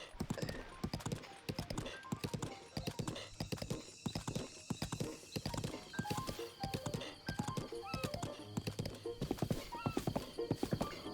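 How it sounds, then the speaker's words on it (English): A horse in Zelda: Breath of the Wild on a walk by the beach, with steady rhythmic clip-clopping hooves close by and several high whinnying neighs breaking in, at low volume and with no talking. "Here, you can pat your horse."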